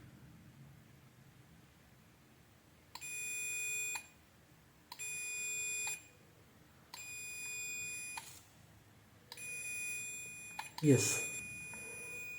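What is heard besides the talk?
multimeter continuity beep while slowly adjusting heater thermostat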